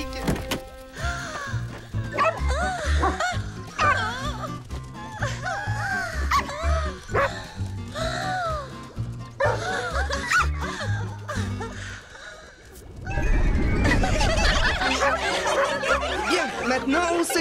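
Several cartoon puppies bark and yip excitedly in quick overlapping bursts, lively and close, followed by a louder burst of commotion near the end; voices and giggles mix in.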